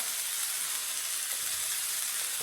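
Onions, peppers and garlic fry with rice in a hot pan for Mexican rice, giving a steady, close, fairly loud sizzle with no gaps and no voices.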